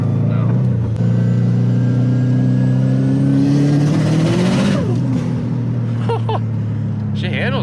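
A Subaru STI's engine pulls and revs up under acceleration, a loud close-up tone climbing in pitch, then a gear change and a broader rush as the drive continues.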